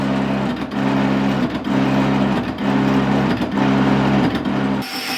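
A lathe with a ceramic cutting tip machining a hardened, welded cast iron change wheel, giving a steady loud mechanical whir with strong low hum and a rhythmic pulse roughly once per second, stopping abruptly near the end.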